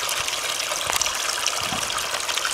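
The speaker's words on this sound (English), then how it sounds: "Christening the waterfall." Water pours steadily from a backyard pond waterfall, a continuous close rushing splash with small trickling bursts and no voices.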